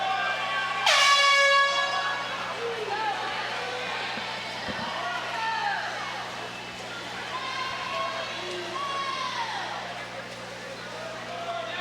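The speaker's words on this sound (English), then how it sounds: "So with the signaling of the horn, that means Hartman is on her final lap." Air horn blasting once at a high school swim meet to signal a swimmer's final lap, loud and brief near the start, followed by crowd noise, cheering and whistling across the pool.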